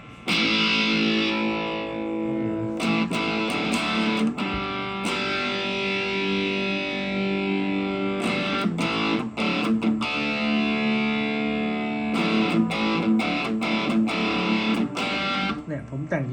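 Sustained electric guitar chords through a Biyang Metal End distortion pedal with treble turned up, ringing out with brief pauses and restrikes between long held notes.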